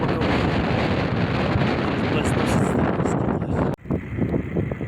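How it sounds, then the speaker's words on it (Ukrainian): Strong desert wind in Chile roars steadily into the microphone as loud, continuous buffeting, then drops briefly near the end before gusting back in. "При такому вітрі віхрі запросто образується."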